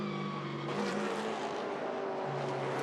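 A V8 touring race car engine at Pukekohe circuit roars continuously, its pitch shifting as the car downshifts and pulls up, with faint tyre noise under the engine.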